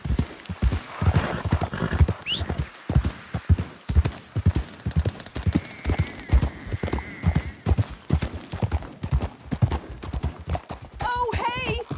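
Rapid clip-clop of a Missouri Fox Trotter horse's hooves galloping in Red Dead Redemption 2, steady and close throughout, with a brief whinny near the end and occasional game voices and ambience underneath.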